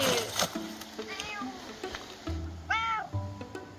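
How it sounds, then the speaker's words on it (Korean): A cat meows several times near a fire-damaged secondhand bookshop, with clear, rising and falling cries, the last one longest and loudest, set against low background noise. "화재 이후 보름 만에 고양이 홍이도 모습을 드러냅니다"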